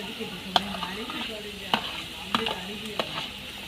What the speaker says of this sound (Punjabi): ਹੁਣ ਇਹਨਾਂ ਨੂੰ ਥੋੜਾ ਜਿਹਾ ਹਲਕਾ ਜਿਹਾ ਬਰਾਊਨ ਕਰ ਲਾਂਗੇ ਪਿਆਜ਼ ਨੂੰ